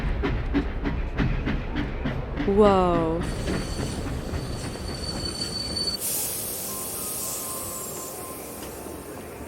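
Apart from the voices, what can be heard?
train arriving at the platform in Roblox Bloxburg video game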